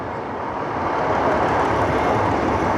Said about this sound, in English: At the risk of turning into train nut, have some trains.